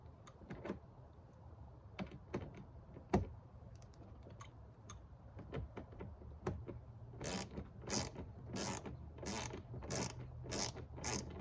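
Ratchet tightening mud flap fasteners on a 2024 Ford F-250 Super Duty, sharp clicking strokes in scattered bursts, then a fast steady run of loud ratcheting near the end, close up with no talk.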